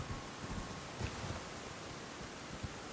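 Steady rain falling in the dark in the video game Elden Ring, a continuous even hiss with a few soft low thumps, like faint distant thunder, running through the whole stretch without any voice.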